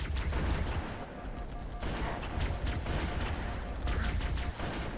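Sustained strafing gunfire in the Halo video game, a dense, continuous roar of rapid shots that stays loud and steady throughout without any talking.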